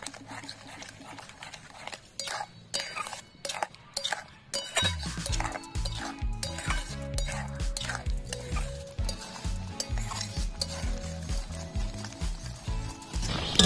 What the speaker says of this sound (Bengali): 5 মিনিট নাড়াচাড়া করে নেব